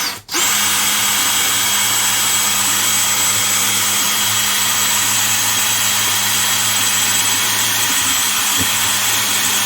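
Steady, loud drone of a power tool shaping a round handle for a homemade freshwater fishing awl, running continuously from a sharp start with a constant hum and no speech.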